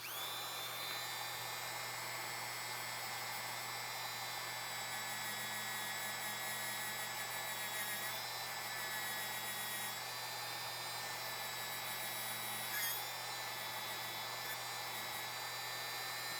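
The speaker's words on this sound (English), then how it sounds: "We're going to polish up this connector really well." A rotary tool at medium speed polishes a Glock trigger connector with a steady, high, thin whine. It runs continuously for the whole stretch, with a slight pitch wobble as the bit works around the part.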